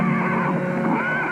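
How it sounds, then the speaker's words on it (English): A rearing horse lets out a loud, sustained whinny close by, with faint hoof clatter beneath it and no voices. "Patterson's horse reared, throwing him."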